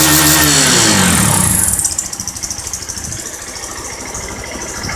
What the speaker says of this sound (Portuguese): Aí você pode ver que o barulho já modificou sem alterar o escapamento.